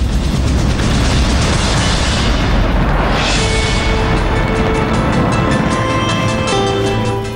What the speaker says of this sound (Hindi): बुर्ज खलीफा का अद्भुत नजारा, नए साल के स्वागत में जमकर आतिशबाजी।